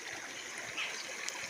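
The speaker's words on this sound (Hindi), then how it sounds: "नीचे एक नदी की धारा जा रही है" A river stream flows below a hillside path near a temple, making a steady, faint rush of running water that continues without a break, with no speech.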